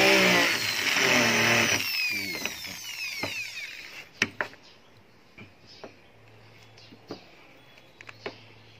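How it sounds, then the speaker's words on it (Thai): A power drill bores a pilot hole in a Kia Carnival sliding door, whining loudly up close for about two seconds, followed by scattered clicks and knocks while someone talks. "เราก็เจาะนำต่อไปครับ"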